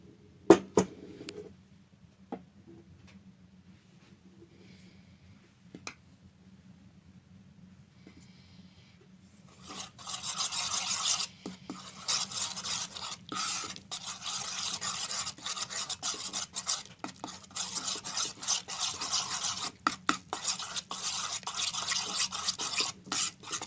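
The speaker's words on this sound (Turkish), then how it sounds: "unu az az katarak hamurumuza başlıyoruz" Dough for homemade ekmek kadayıfı, made with grape molasses and a pinch of salt, is worked by hand as flour is added bit by bit, starting quiet with a few taps, then continuous rasping, rubbing and scraping in the bowl.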